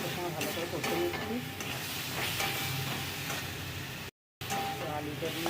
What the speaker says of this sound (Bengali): তো আলুটা দিয়ে মশলাটার সময় ভালো করে কষে নিচ্ছি